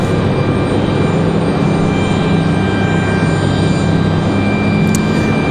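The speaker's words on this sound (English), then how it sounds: "I hear a helicopter." A helicopter drones steadily overhead near Raleigh-Durham International Airport, a continuous rumbling roar that stays fairly loud and even throughout, with no voices.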